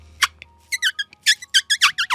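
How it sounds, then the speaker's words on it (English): A spacesuit squeaks against a space station window in a film trailer: a run of about ten short, high rubbery squeaks in uneven rhythm, close and clear, with no voices. "as she squeaks up the window"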